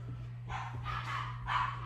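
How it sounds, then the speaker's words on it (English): Dogs bark outside in a few short bursts, muffled and moderately distant, over a steady low hum indoors. "apologies for my dogs out there barking"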